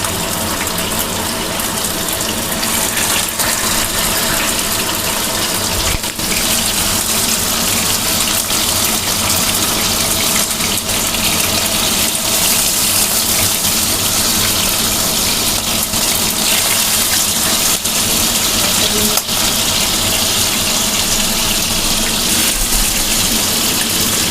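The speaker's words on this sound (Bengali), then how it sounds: "এবারে এক এক করে চিকেন পিসগুলো দিয়ে দিচ্ছি মানে ফ্রাই করার জন্য" Chicken pieces for an Indian doi chicken sizzle in hot oil in a pan, a loud, steady frying hiss that carries on without a break from start to finish with no talking.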